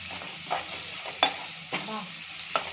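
Tamarind chutney being stirred and mixed in a pan, a spoon scraping in a few distinct strokes over a soft, steady sizzle, close and fairly quiet with no talking.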